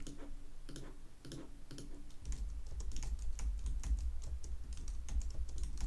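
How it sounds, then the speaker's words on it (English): An Apple keyboard and Apple mouse being typed and clicked, giving light, irregular taps and clicks close to the microphone, later joined by a steady low hum. "I'm just using the conventional actual Apple keyboard and the conventional smart mouse or Apple mouse"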